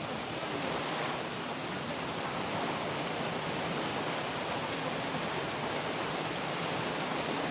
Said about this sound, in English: Don't the waves sound amazing?